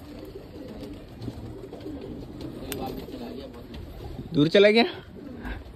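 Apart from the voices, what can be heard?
newly released pigeons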